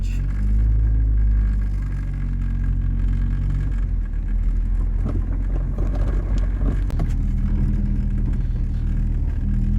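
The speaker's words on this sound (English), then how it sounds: "The motor's fired up." A car with a G23 VTEC engine idles and rumbles steadily up close, its note shifting slightly as it revs and begins to move off out of a garage.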